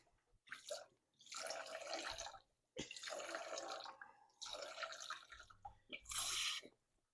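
Orange juice is poured in a few separate short bursts, a soft faint liquid splash that starts and stops with brief pauses in between.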